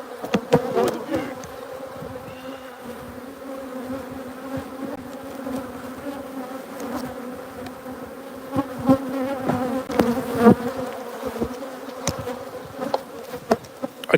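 Honey bees buzz steadily and close at an open hive, with a continuous droning hum broken by sharp clicks and handling knocks.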